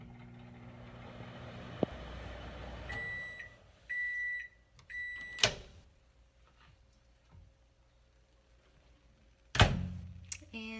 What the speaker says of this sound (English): So we're going to do 50 seconds in the microwave this time.